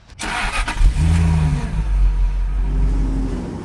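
A 2002 Jaguar XK8 engine starts revving as the car pulls away, rising into a loud, steady acceleration roar that holds close and strong for several seconds.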